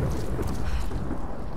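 Thunderstorm in Tomb Raider: a low, rolling rumble of thunder mixed with wind and rain, loud and sustained, filling the scene without pause.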